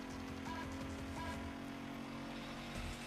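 A Toyota Supra races at high speed in Need for Speed Most Wanted, its engine a loud, steady, droning roar with a constant tonal hum.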